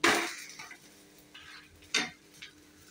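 A spatula flips an egg kalaki dosa on a hot oiled pan: sharp metal scrapes and clatters in three bursts, with sizzling frying between them, close and loud with no talk.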